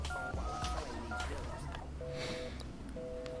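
A telephone being dialed, with a quick run of touch-tone beeps followed by two longer separate tones, heard over steady background noise and faint voices.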